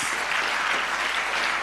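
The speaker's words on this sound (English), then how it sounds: "Shall we please give him another round of applause?" Steady, full applause from a lecture audience, a continuous dense wash of clapping throughout.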